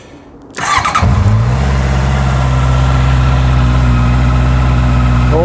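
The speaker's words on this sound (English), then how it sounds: "So let's fire it up, just for the fun of it." A Honda CB650F motorbike in neutral cranks over briefly and catches, then settles into a loud, steady, close-up idle that runs to the end.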